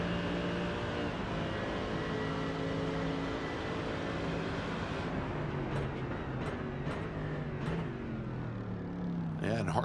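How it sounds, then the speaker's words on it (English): A Mercedes race car engine on track at Hockenheim, a loud sustained roar with shifting pitch as it revs and gears change, then sharper bursts as it brakes and downshifts, heard beneath commentators talking. "It's a glorious engine sound."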